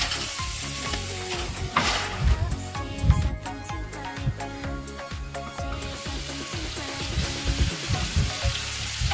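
Pumpkin, cluster beans and brinjal for sambar sizzle in a pan while being stirred, a dense close crackle with frequent scraping and knocking of the spoon.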